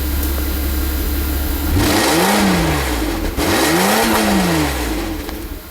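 A Mercedes-Benz SL600 R129 coupe's V12 idles, then revs up twice in two rising and falling sweeps, loud and close, with no talking.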